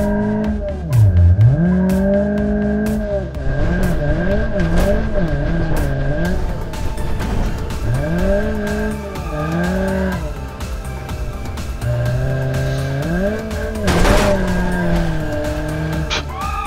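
Front-wheel-drive Fiat Panda driven hard in a racing game, its engine revving up and down in sweeping pitches while tires squeal and skid loudly, close and continuous with brief gaps.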